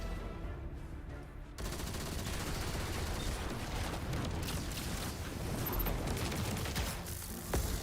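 Gunfire rattles through a firefight in the Destiny 2 game, steady and dense, with overlapping shots and bursts that carry on for several seconds at a moderate level.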